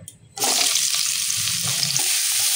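After a brief quiet start, vegetables for sukto hit hot oil and a loud, even sizzle begins. It continues close and unbroken, with faint stirring underneath.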